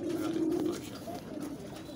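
A female pigeon gives a soft, low coo, one near call that fades after about a second.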